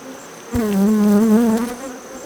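Honey bees buzz steadily and close by at an open Apimaye hive, a dense drone with a strong low hum. The buzz swells after the first half second, then holds for the rest of the clip with no talk over it.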